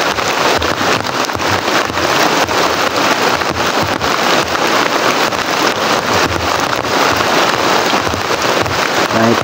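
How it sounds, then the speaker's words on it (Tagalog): Heavy rain pours down outdoors, a dense, constant hiss and roar of water on surfaces with wind buffeting the microphone, steady and loud throughout with no voices. "Kahit masyadong umuulan po"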